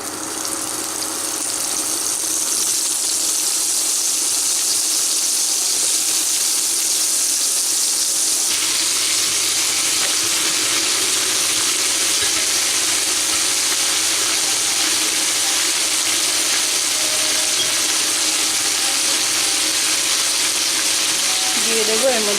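Bottle gourd pieces with two dried red chillies frying in a pan, giving a steady, continuous sizzle and hiss with a faint hum underneath and no talk.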